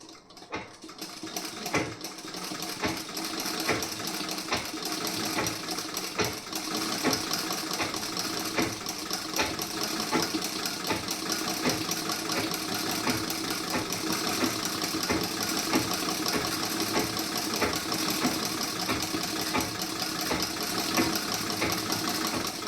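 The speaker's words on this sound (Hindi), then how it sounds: "अब यहाँ पे एक सिलाई और लगाऊंगी मैं" Sewing machine stitching a piece-style blouse, a continuous, fast mechanical whir with a rapid needle rhythm that runs steadily after a brief start, close and loud with no talking.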